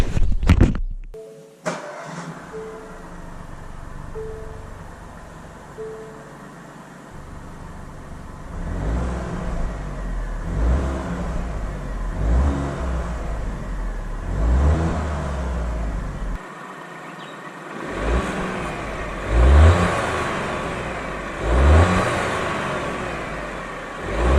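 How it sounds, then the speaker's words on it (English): A car cranks over with a few starter chirps, fires up, and settles into a rough idle, then takes a series of deep, throaty revs that rise and fall, close by and loud. "let's hear it start up of this thing."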